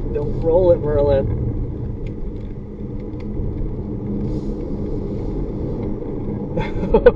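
A fast truck runs at a Wednesday night drag strip, giving a deep, rumbling engine drone heard from a distance, with voices nearby at the start.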